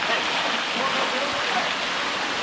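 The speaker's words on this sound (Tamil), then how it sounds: "காவேரி நீர் தண்ணி அப்படியே ஊற்று தண்ணி மாதிரி வந்துகிட்டே இருக்குது" Spring water flowing steadily at Talakaveri, the source of the Kaveri river, a constant close rushing splash with no pauses.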